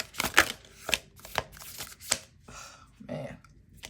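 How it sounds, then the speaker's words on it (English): A stiff deck of themed tarot-style playing cards is shuffled by hand, giving a string of sharp riffling snaps and slaps at irregular intervals, fairly close and quiet. "These are hard to shuffle, by the way, if you were wondering."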